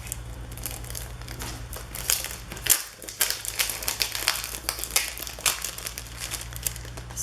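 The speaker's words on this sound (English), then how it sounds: "Sorry about all the crinkling." Close, continuous crinkling and crackling of plastic rub-on transfer packaging handled at a craft table, with bursts of crumpling and a brief tearing rustle partway through. No one speaks.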